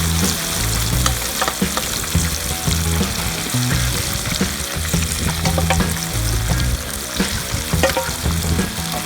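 River fish deep-frying in oil, a loud, steady crackling sizzle with dense bubbling that runs the whole time, close up and without any voices.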